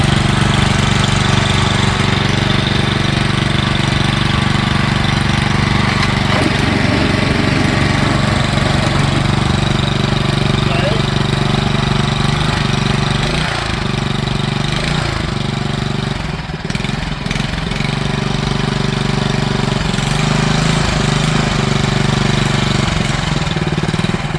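A Hangkai 6HP four-stroke outboard motor runs steadily at a high idle during break-in, a loud, continuous mid-pitched engine drone with a few small fluctuations and no talk.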